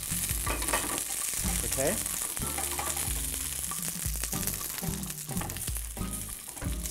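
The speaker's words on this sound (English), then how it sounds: "I'm actually going to get these string beans softened up by adding them to the pan ahead of the other ingredients" String beans fry in very hot oil in a pan, giving a continuous sizzle largely buried under loud rhythmic guitar music, with one brief spoken word.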